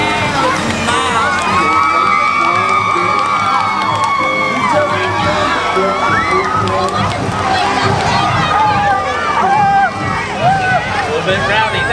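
A crowd of students at an apple festival parade cheers and shouts loudly, excited children's voices and whoops layered over a constant close hubbub for the full twelve seconds.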